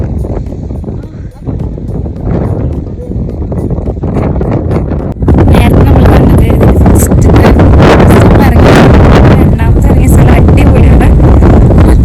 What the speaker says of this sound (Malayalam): നല്ല കാറ്റായിരുന്നു, നല്ല തണുപ്പും.